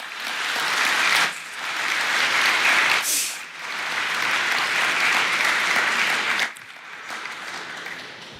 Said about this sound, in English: please, another round of applause for Mark Engel